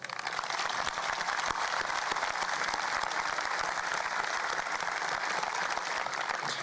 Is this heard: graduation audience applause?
yes